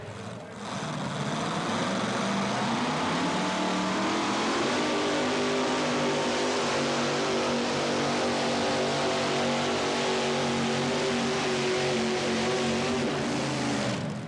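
Loud, steady roar of a tractor pull engine on the Red Man series circuit, running continuously for the whole stretch with a low droning pitch that rises slightly after a few seconds.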